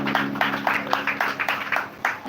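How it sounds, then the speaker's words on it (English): A church congregation claps in a loose, uneven rhythm, with repeated bursts of hand claps at moderate volume and some faint voices mixed in underneath. "Let's clap for her again."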